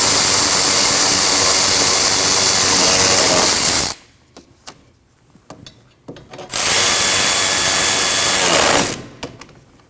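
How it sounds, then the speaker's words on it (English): An impact wrench or power tool runs in two loud, sustained bursts, about four seconds then two and a half, tightening the two caliper bracket bolts over the rear rotor of a 2003-2008 Subaru Forester during a wheel bearing job, with brief clicks between. "Now you can tighten those two bolts."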